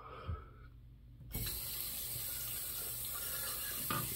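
Tap water runs steadily into a sink as a razor is rinsed during a wet shave, the flow starting abruptly and continuing loud and close.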